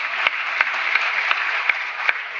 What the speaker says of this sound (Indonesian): Tepuk tangan dong buat acaranya